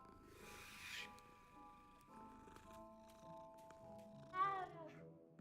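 A cat in Hogwarts Legacy purrs and gives a short meow. The sound is quiet and intermittent, with a brief brighter cry near the end.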